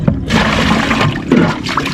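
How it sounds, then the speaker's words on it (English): Water sloshes and splashes as it is scooped from the bottom of a small inshore fishing boat into a bucket, a short close-up burst of gurgling and trickling. "I'm bailing water out the bottom of the boat into the bucket"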